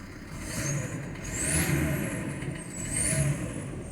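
2007 Volkswagen Crafter 2.5 TDI diesel van running after a cold start with 153k miles, a steady low engine drone close by with a high whining tone that sweeps up and down twice.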